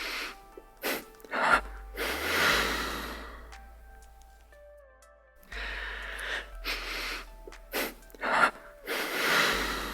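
Deep, slow breaths drawn in and let out as a calming breathing exercise, several full inhale-exhale cycles with audible rushes of air, near and alone, separated by a quiet pause.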